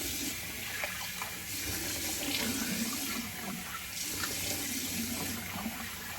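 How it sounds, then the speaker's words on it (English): Warm water running steadily from a tap into a sink while someone rinses their face after shaving, a continuous close splashing wash with slight surges and no voices. "I'll rinse off with some warm water"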